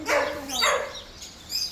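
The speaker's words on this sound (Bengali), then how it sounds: "এটা হলো সুইজারল্যান্ডের কুকুর" Dog barking at a zoo in Al Hasa, Saudi Arabia, a few loud close yaps in quick succession with a faint voice nearby.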